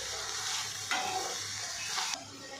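Chopped okra sautéing in oil in a pan for Tamil-style poriyal, a steady close sizzle with a few brief swells as the pieces are stirred.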